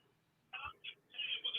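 A telephone rings on a live call-in radio show, with short tonal bursts at moderate volume. The rings come in an uneven pattern, and a voice briefly overlaps them.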